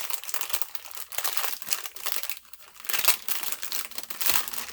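Paper packaging crinkles and rustles continuously up close as it is handled, with no talking.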